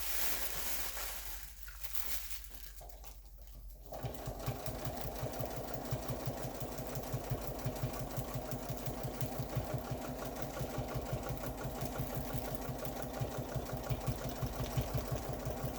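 A domestic sewing machine doing pantograph machine quilting runs steadily and loudly in a fast, even stitching rhythm after a few seconds of quieter, uneven mechanical sound.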